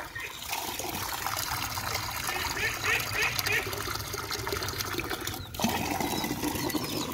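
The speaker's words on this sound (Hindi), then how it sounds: "लें जी ये चूज़ों को पानी डाल दिया" Water poured out for chicks and a duck in a backyard pen, a steady trickling splash running through the clip with a brief break near the end, talk in Hindi over it.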